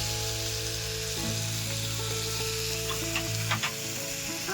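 Cumin seeds crackling in hot oil in a pan, a steady close sizzle with a few sharper pops and light stirring near the end, with no voices.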